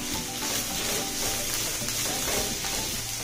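Sliced onion, carrot, capsicum, beans and cabbage fry on high flame for veg hakka noodles, making a loud, continuous close sizzle with stirring and no voices.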